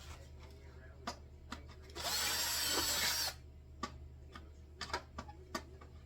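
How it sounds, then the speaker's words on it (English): A handheld power drill whirs loudly for about a second and a half while building seats for a CNC plasma cutting table, framed by scattered knocks and taps before and after in a workshop. "And then I'll just take my drill."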